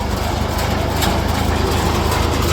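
A Case 555 tractor engine runs loud and close during hay cutting, a steady rumbling drone being throttled without clear breaks.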